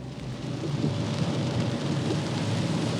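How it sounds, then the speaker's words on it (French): Heavy rain falls in a flood-hit part of France, a dense, steady hiss with a low rumbling undertone that holds constant and fairly loud throughout. "il pleut et il a plu toute la nuit"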